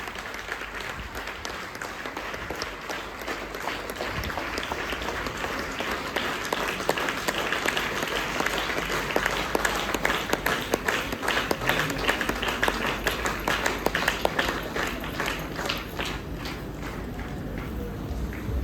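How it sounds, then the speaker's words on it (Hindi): Loud, sustained audience applause fills a business success event hall in Bihar, dense and steady throughout with a few stray voices under the clapping. "एक जोरदार ताली होनी चाहिए बिहार से हमारे क्राउन डायमंड कपल्स के लिए"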